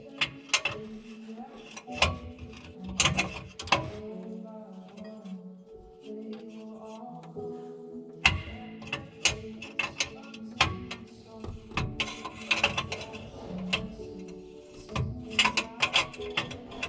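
A ratchet and spanner are used to tighten bolts while an oil cooler is fitted to a car, with repeated metallic clicking bursts and clanks throughout and occasional quiet talk.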